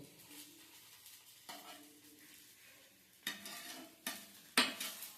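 A spatula working patishapta, a thin pancake rolled around a milk chhana filling, in a pan: a soft low sizzle broken by a few scraping strokes that grow louder toward the end, close and without talk.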